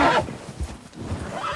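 A horse whinnies loudly in Red Dead Redemption 2, a sharp rising neigh at the start that fades into snorting and scattered hoof clip-clops, close and clear with no talking over it.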